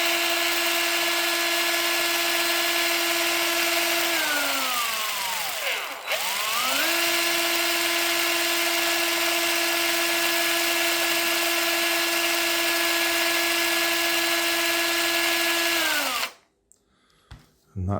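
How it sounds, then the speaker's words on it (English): An electric drill spins a balloon-powered single-cylinder model air engine on an open chassis, a steady high whine that briefly slows and dips midway, then resumes at constant pitch before cutting off near the end. "I do have an electric drill"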